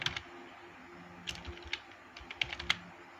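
Keystrokes on a computer keyboard while entering text into a document, a handful of light, irregular clicks with short pauses between them, heard close up over a faint background and with no one speaking.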